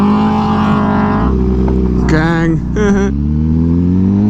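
A new Suzuki GSX-R 600 motorcycle engine revving loudly and close, with sharp high-pitched bursts of throttle over a rough idle, while a voice briefly speaks.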